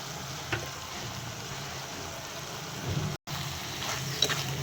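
A spoon stirs ground coconut into banana flower kootu in a pan, making soft scraping and faint sizzling under a steady low background, with a brief dropout partway through.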